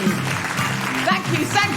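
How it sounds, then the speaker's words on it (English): Live audience applause at an Edinburgh Fringe comedy show forms a steady wash of clapping, while voices talk loudly over it for the whole short stretch. "Big round of applause for Kate Cheka and Emma Sidi"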